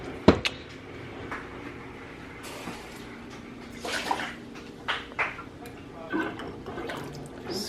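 A small bowl scoops water out of a canning pot, giving a few separate splashes and pours spaced through the clip, close by and moderately loud, with no talk.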